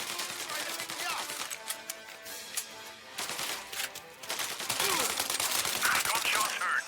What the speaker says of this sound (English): Gunshots heard. Please respond.